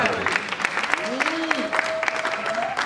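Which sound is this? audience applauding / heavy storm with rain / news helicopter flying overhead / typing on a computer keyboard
audience applauding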